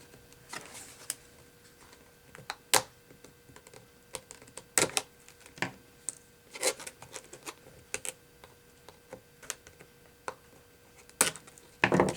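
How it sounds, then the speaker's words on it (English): Tim Holtz scissors snipping around a wooden stamp, a series of sharp, close cuts and clicks spaced irregularly across a quiet background. "So I'll just take my scissors."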